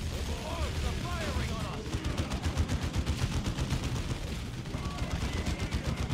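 Rapid bursts of gunfire from the strategy video game Dawn of War II crackle in quick repeated volleys, layered with game voice effects and background battle noise.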